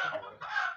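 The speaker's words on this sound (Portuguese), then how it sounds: "Aquele galão grandão é da raça Brahma." A large Brahma breed rooster calls at a poultry seller's yard, giving two short, hoarse crowing or clucking bursts close by, with no talk over them.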